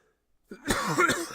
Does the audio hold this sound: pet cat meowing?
no